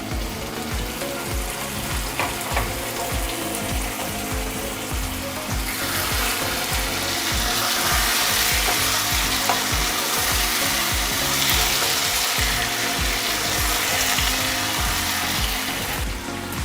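Mutton frying in a pan while being stirred gives a steady, dense sizzle with rhythmic scraping and clattering throughout, close up and growing slightly louder about halfway through, with no talking.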